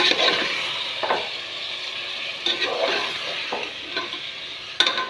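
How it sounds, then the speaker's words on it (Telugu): Goat head meat is stirred with lightly fried onions for a goat head curry, producing a close hissing fry with several scraping stirs and a few sharp knocks against the pan. "ఇట్లా కొంచెం ఫ్రై అయిన ఒక ఆనియన్స్ దీంట్లోనే ఇక ఈ మీట్ వేసేయాలి, తలకాయ కర్రీ."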